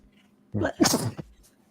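A single sharp sneeze with a quick inhale before the burst, close and alone against near silence.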